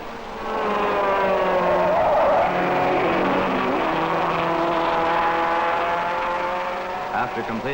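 A 1961 Formula One race car pulls away at Monaco with a loud, sustained high-pitched engine whine that rises and holds before fading slightly, plus a brief tire squeal near the end.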